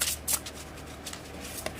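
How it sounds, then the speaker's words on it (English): Oracle cards being shuffled overhand: a few quick, close papery riffles and slides in short bursts, with quiet handling between them. "Let's try to do an overhand shuffling."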